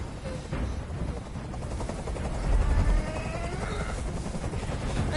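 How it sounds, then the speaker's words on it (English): Helicopter rotor thudding overhead in the video game Nobody Becomes Human, a dense, steady low-frequency chop that swells slightly louder midway and holds throughout, with no talk. "I can't stand that noise anymore. Tell that helicopter to get out of here."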